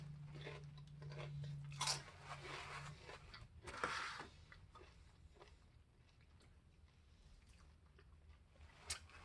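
Faint crunching bites into crispy hard-shell tacos, two sharp crunchy bursts a couple of seconds apart followed by quieter chewing and a soft crunch near the end, close and alone.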